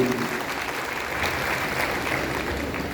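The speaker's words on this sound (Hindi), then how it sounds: "जोरदार तालियों के साथ इनका स्वागत कीजिए" Audience applause welcomes a speaker at a talk at a Lucknow centre, a steady wash of clapping from a gathered crowd lasting a few seconds without a break.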